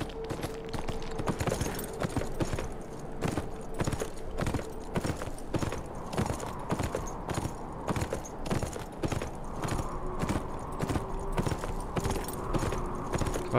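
Hooves clip-clop at a steady trotting rhythm as a horse is ridden in Beyond: Two Souls, continuous and moderately close with a faint background hum, no voices.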